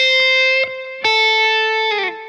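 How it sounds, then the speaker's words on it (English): Electric guitar playing a pentatonic lick with slapback delay and reverb: a few bright, sustained distorted notes with quick repeats and a slight bend at the end, loud and close, with no talking. "That delay, that reverb, that slapback helps."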